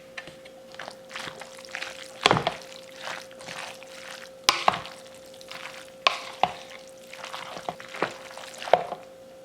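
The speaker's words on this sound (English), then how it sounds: "Pour a little bit more." Pasta sauce is poured over baked rotini noodles and mixed in, giving wet, sticky squelches with sharp clicks and scrapes from stirring at irregular moments, close by.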